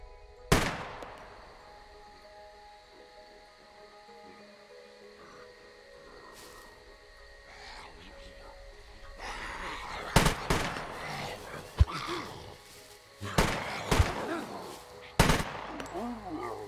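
Gunshots in the survival game SCUM: a sharp crack near the start, then several loud reports spaced a couple of seconds apart later on, over a quiet outdoor background with brief talk.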